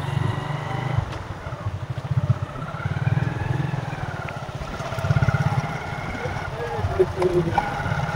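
A motorcycle engine thrums steadily with a pulsing low rumble while riding, and a voice talks over it now and then.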